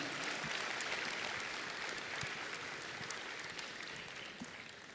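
A large crowd at a landmark college event gives sustained, even applause, a dense wash of clapping that holds steady and tapers slightly near the end.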